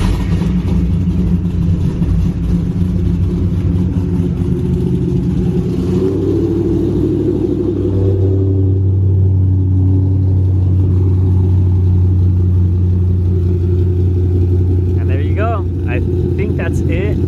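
A Ford 3V engine fitted with a ghost cam settles into a steady idle at about 1,140 RPM, a deep, continuous near rumble with a slightly uneven lope, holding a low hum throughout.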